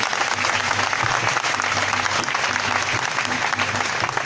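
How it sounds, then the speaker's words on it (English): An audience applauding children after a performance of the national anthem, dense continuous clapping from a large crowd at a public gathering, steady and moderately loud. "Please, a round of applause for those children."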